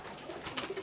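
Racing pigeons coo in a loft in the Eastern Cape, giving a brief run of soft, low, murmuring coos that sound faint and close. No talk is heard.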